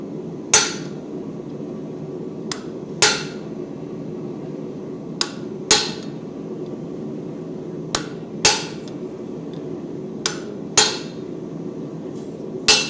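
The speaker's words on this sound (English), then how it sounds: "Now I'm going to use the more blunt chisels to go further." Blunt chisels struck by a hammer to split wood, heard as sharp ringing metallic blows, about ten evenly spaced strikes roughly every second or two, close and clear over a low steady background hum.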